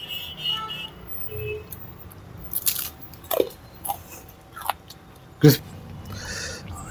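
Crispy palm jaggery millet biscuits are bitten and chewed up close, giving several sharp, separate crunches spread across the moment with quiet pauses between.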